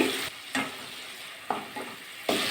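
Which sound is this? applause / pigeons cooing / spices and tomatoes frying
spices and tomatoes frying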